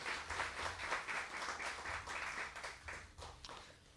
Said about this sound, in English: let me ask you for a round of applause for our guests from Sweden